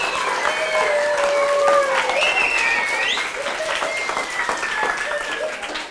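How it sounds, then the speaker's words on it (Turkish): A school audience claps steadily and continuously at a middle-school drama event while voices call out and whoop loudly over the applause. "Alkışlıyoruz Ali Can abimizi."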